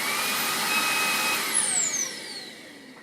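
A Makita 40V CL001G cordless stick vacuum whirs steadily and loud, then its pitch sweeps down as the motor winds off and slowly coasts toward a stop, with no talk over it.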